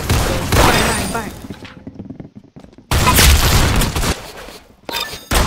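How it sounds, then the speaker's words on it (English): Shotgun blasts from the Roblox video game come in loud, booming bursts that cut in abruptly with brief quiet gaps between them, and a player talks intermittently. "I heard shotgun noises from here"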